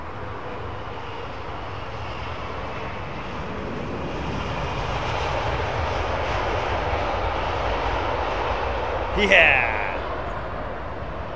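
A jet aircraft engine idles at low thrust at London Heathrow Airport, a steady broad roar that swells slightly through the middle, with a brief shout near the end.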